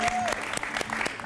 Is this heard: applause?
yes